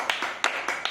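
Children in a classroom clap briefly for a classmate: a handful of quick, separate claps in a short burst, fairly close and at moderate volume.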